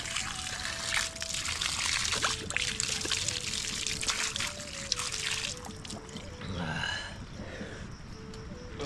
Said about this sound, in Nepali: मूलको पानी क्या अब माथिबाट ल्याएको पाहाडको प्राकृतिक पानी